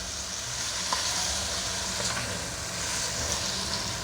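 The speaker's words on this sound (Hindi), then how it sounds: "अब मैं इसको ज़रा अच्छी तरीके से 5 मिनट के लिए इसको अच्छी तरह भून लूँ" Minced meat keema frying in a pan, a steady, soft sizzle with faint occasional stirring clicks, heard alone and fairly quiet.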